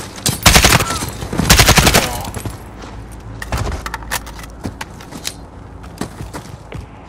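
Gunfire in the Call of Duty: Modern Warfare game, with heavy close bursts of automatic fire in the opening two seconds, then scattered sharper shots and impacts continuing more sparsely to the end.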